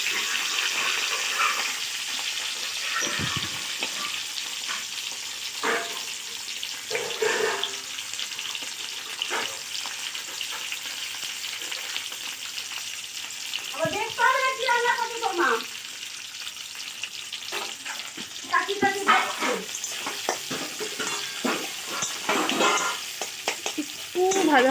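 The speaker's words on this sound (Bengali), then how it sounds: "তেলটা গরম হয়ে গেছে, দিয়ে দিলাম রসুন, এবার দিয়ে দেবো" Garlic and onions frying in hot oil in a pan for pasta, a constant crackling sizzle with occasional scrapes of stirring and short bursts of tap water running in the background.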